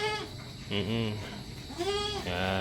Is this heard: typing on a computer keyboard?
no